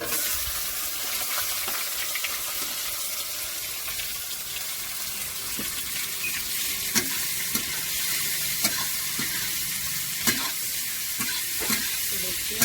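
Onion frying with cumin in a hot pan for a ghongha curry: a bright, continuous sizzle with occasional stirring clicks and scrapes, close and steady.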